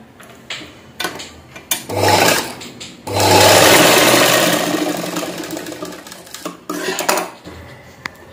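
A sewing machine runs cross stitches across the back neck of a blouse, with short whirring bursts, a longer steady run in the middle and faint handling clatter between.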